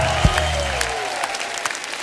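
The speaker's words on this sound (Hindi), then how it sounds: "जोरदार तालियां हो जाएं" A studio audience on The Kapil Sharma Show gives a short, loud round of applause to welcome a guest, opening with a thump and a gliding tone before the clapping continues briefly.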